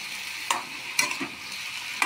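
Chilli, cumin, coriander and Kashmiri chilli powders frying in a pan, with a quiet sizzle and a few sharp scraping stirs of a spoon, faint and close.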